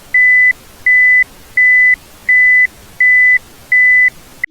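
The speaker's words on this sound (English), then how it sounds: "So this constant beeping on reverse" Reverse warning on a 2008 Toyota Prius sounds as six evenly spaced, identical electronic beeps, clear and prominent in a quiet cabin.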